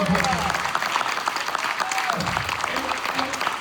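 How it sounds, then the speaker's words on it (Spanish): A church congregation applauds during a sermon, a dense continuous roar of clapping with a voice briefly audible over it. "¿Cuánto le damos aplausos?"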